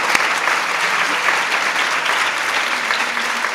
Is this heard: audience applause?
yes